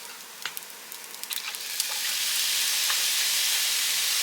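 Fried rice with veggies in a hot pan: a few spatula taps and stirring scrapes, then soy sauce poured in swells into a loud, steady hissing sizzle that fills the rest, close up and without speech.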